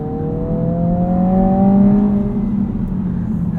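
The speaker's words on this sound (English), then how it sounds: "some of that character is piped in engine sound, and it sounds a little bit artificial" A 2022 Honda Civic Si sedan's 1.5-litre turbo engine accelerates steadily from inside the cabin, its rising drone partly piped-in engine sound, continuous and fairly loud with no talking.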